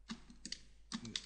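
Computer keyboard shortcuts tapped out while editing in Photoshop, heard as two quick clusters of sharp key clicks with a short pause between them, close and fairly quiet, with no voices.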